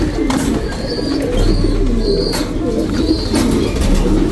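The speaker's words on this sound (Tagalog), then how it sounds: "Racing Pigeon to." Racing pigeons in a loft coo repeatedly in soft rhythmic phrases, several birds close by, with occasional rustling and wing movement.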